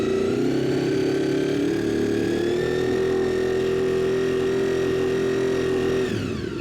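A Honda VFR750 motorcycle engine revs steadily up to about 5,000 RPM and holds a smooth, rising mechanical whine for several seconds before the revs drop off abruptly near the end, heard close up with no talking.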